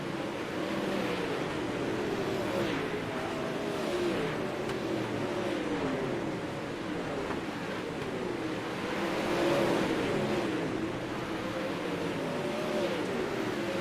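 Sprint cars racing around an oval track on the NARC All-Star circuit, a distant, blended engine roar that rises and falls in pitch as the pack laps, heard alone without any talking.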